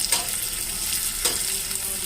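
Steady close sizzling of cumin, mustard seeds and garlic frying in a tempering of hot ghee and oil, with a couple of sharp crackles popping through the hiss.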